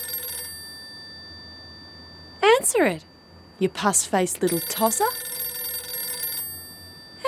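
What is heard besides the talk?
telephone ringing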